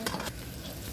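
Chicken kosha frying in a pan with browned onions, a brief burst of sizzling as a spoon stirs and scrapes through the pieces, close up and without talk.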